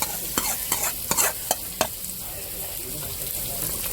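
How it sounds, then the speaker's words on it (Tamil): Tempering for sambar, a fried mix of fenugreek, chilli, onion, tomato and green chilli, sizzles in the pot with several sharp stirring scrapes in the first two seconds, then a steady low crackle, no talk. "தாளிச்சதை சாம்பாரில் சேர்த்துக்கலாம்"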